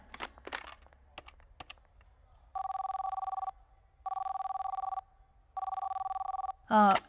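A hotel telephone rings unanswered in three evenly spaced, loud trilling bursts after some soft handling noises, with a brief voice at the very end.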